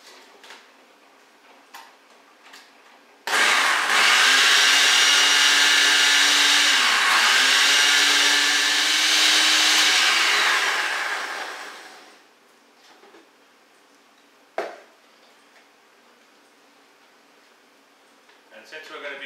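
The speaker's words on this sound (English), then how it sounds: "we're going to grind it up in the blender" A kitchen blender purees chiles for posole rojo, a loud steady whir that runs about nine seconds with a brief pitch dip mid-run, then winds down, with faint clatter before and after.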